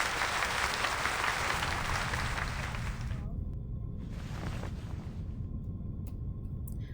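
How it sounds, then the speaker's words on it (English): Applause from an audience fills a hall after a speech, a dense broadband clatter of many hands that runs loud for about three seconds and then keeps going as a more subdued ongoing patter. "The applause stops."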